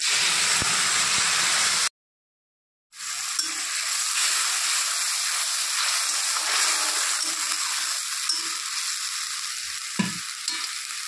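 Ginger, green chilli and garlic paste sizzles loudly in a pan of browned frying onions. The hiss is steady and close, with stirring scrapes and a brief moment of silence near the start.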